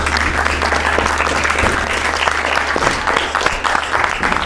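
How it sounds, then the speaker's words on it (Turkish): Loud, dense applause from a crowd at an underground fight event fills the space steadily, with a murmur of voices running underneath. "Güzel bir alkış"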